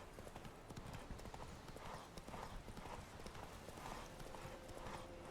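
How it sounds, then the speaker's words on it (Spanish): Hooves clip-clopping steadily as a horse trots in The Witcher 3, a continuous rhythmic gait under ambient game sound, with someone talking over it. "Ahora se ha cansado el caballo. Vamos al trote."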